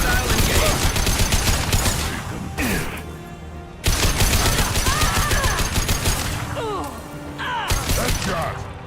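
Rapid gunfire rattles in Mass Effect 2 as dense automatic bursts with short pauses, loud and close, overlapping shouted game voices and sweeping effects.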